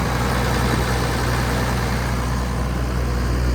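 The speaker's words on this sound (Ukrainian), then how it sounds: "Підійшов я до двигуна. Дивіться, як гарно працює, рівненько." The engine of a John Deere 1166 SII combine harvester runs steadily at an even idle, a constant low rumble with no changes in pace, close and loud.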